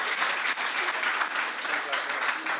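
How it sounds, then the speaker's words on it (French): Audience applause fills a hall after a speaker's talk on freedom and youth, a dense, steady clapping wash that holds at even loudness throughout. "Acclamez pour vous-même."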